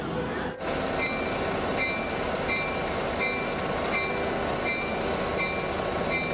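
A train rumbles steadily along the tracks with a dense, continuous roar and faint periodic squeals from the wheels.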